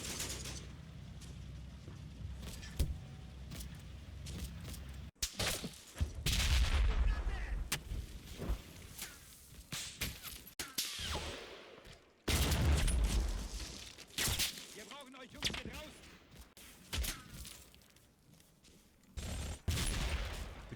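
Mortar fire in the video game Combat Mission Fortress Italy rings out as a series of heavy, loud blasts and explosive bursts, separated by short lulls and rumbling battlefield noise.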